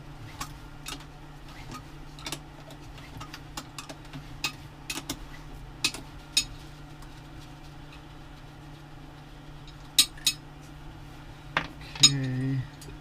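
Metal wrenches clink and tick against metric bolts while the old marine head is removed on a boat, with sparse, close, faint metallic taps over a steady low hum.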